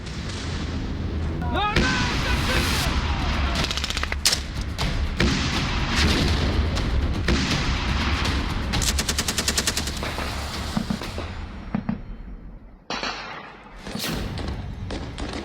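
Gunfire as fighters are shot in a street, with loud rapid machine-gun bursts and heavy thuds in close succession, then a brief lull and scattered shots near the end.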